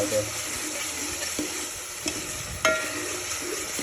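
Chillies and tomatoes fry together in a pan for Kathiyawadi olo, a steady close sizzle broken by a few sharp clicks of spoon against metal as they are stirred, with no talking.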